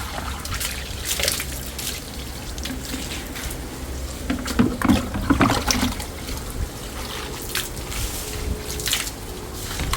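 Dirty veranda walls being washed with collected rainwater, with trickling, splashing and pouring water close by in uneven bursts, and no talking.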